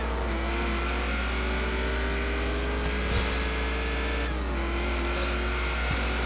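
A Nissan Silvia's engine in the Forza racing video game drones steadily and loudly, its tone rising and dipping slightly with gear and throttle changes, with no talking.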